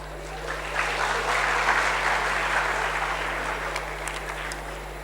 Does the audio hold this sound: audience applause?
yes